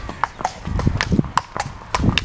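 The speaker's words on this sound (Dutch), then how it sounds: "Wat een knap paard heb jij." Hooves of a horse in a woodland setting, a series of sharp, irregular clip-clop strikes close by, fairly loud against a quiet background.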